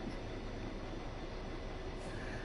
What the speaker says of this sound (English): it's just how they got that, the nuclear flask train, Shieldsmer 325